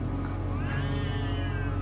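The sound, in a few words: cat meowing at night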